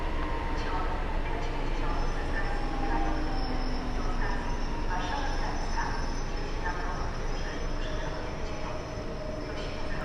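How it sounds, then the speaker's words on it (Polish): A PESA Dart Intercity Fredro train approaches at Warszawa Zachodnia station, a steady low rumble of wheels with faint squeal and station ambience throughout. "A z naprzeciwka jedzie Pesa Dart z Intercity Fredro"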